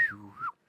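A person gives one short whistle, about half a second long, whose pitch slides down and then back up before cutting off, heard close and alone.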